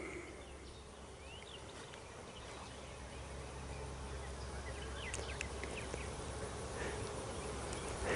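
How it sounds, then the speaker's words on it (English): Steady outdoor buzzing of many bees, a soft continuous drone with occasional louder passes as individual bees fly close by. "You can hear the bees starting to really check them out."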